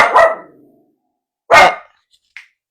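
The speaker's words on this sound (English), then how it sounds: "That's Maisie just saying hello in her puppy dog language" A puppy gives two sharp, close barks about a second and a half apart, followed by a tiny faint yip, with silence between.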